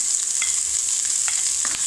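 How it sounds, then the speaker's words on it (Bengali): Chopped onion, garlic and green chili frying in mustard oil, a loud, dense, continuous sizzle close by with a few faint spatula taps. "তেল দিয়ে পেঁয়াজ রসুন এগুলো ভাজবো। পেঁয়াজ কুচি, রসুন কুচি, কাঁচামরিচ"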